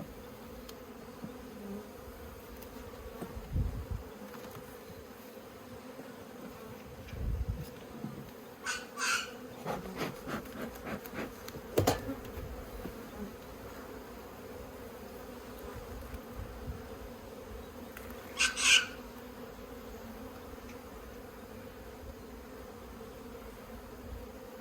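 Honeybees in an Australian top bar hive hum steadily during an open inspection, a continuous close drone with occasional faint clicks and knocks of frames being handled.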